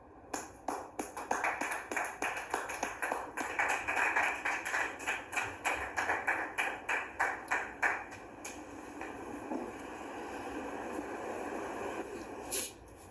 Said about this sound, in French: Merci de les recevoir sous vos applaudissements.